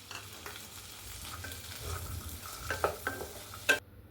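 Chopped onions sautéing in ghee with fennel seeds in a pan, faint steady sizzle under low hum, with a few stirring scrapes and light utensil clinks near the end, no talk.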